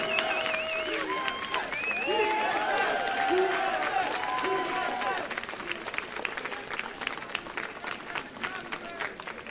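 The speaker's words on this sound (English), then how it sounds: "Let's have one more round of applause for these guys as they get an amazing trophy from Freak." At an MLG Providence esports championship, a crowd applauds and cheers the winning team as they receive their trophy, a steady roar of clapping under whistles and voices.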